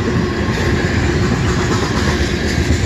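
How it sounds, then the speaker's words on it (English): A long CSX eastbound mixed freight train rumbles past close by in Fostoria, Ohio, a loud, dense, continuous roar of wagons with faint clickety-clack. "Long train."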